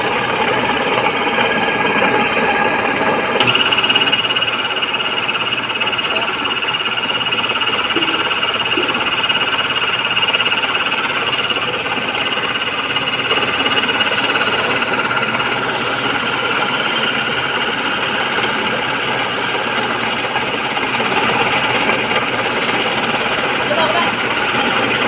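A rice grinding mill at a Cogeo gilingan runs steadily and loudly for the whole stretch, a dense mechanical drone with a continuous rattling texture, while people talk over it.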